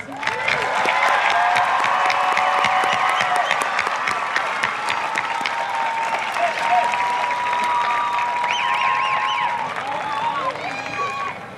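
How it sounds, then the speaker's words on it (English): An audience at a 2022 high school graduation ceremony gives the graduates a big round of applause, a loud, sustained wash of clapping with some cheering and crowd murmur throughout. "I'd like to start by giving all of our graduates a big round of applause"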